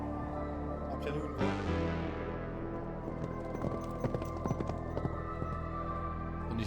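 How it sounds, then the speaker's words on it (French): Horse hooves clip-clopping in a rap track over a low sustained bassline and beat, a series of sharp irregular hoof knocks mixed moderately into the music. "On est chez les chevaux."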